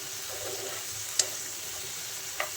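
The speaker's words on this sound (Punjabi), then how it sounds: "ਹੁਣ ਆਪਾਂ ਮਟਰਾਂ ਨੂੰ 2-3 ਮਿੰਟ ਲਈ ਭੁੰਨ ਲਿਆ ਏ" Green peas frying in a pan for a Punjabi pea rice dish: a soft, steady sizzle with two faint clicks of a stirring utensil against the pan.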